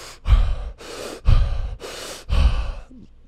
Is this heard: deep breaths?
yes